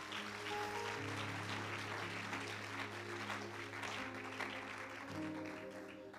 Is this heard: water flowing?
no